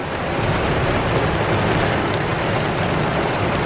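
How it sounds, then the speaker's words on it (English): Heavy rain pours down during a violent storm, a loud, dense, unbroken roar of downpour that fills the scene from start to finish with no voices. "I don't know if you can hear me over the sound of this rain"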